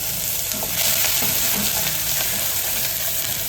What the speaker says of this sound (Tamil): வெங்காயத்தை போட்டு வதக்குறீங்க அதோட இந்த உள்ளியே முழுசாக போடுறீங்க